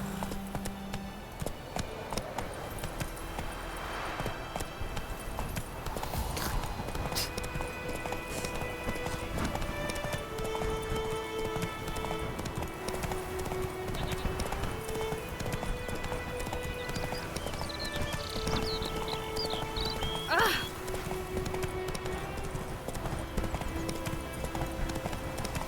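A horse's hooves clip-clop steadily at a gallop in The Witcher 3 video game, a continuous rhythmic drumming over soft sustained game music, with a possible brief whinny near the end.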